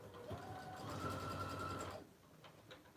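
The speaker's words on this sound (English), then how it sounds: "I'm just gonna go ahead and sew the opening" A sewing machine sews closed the opening of a fabric oven mitt, running in a steady whir for about two seconds before stopping, followed by faint handling clicks.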